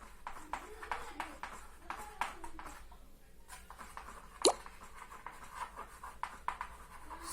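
Pen scratching out an answer by hand on paper in a physics revision lesson, soft irregular strokes and taps at close range with a teacher talking over it.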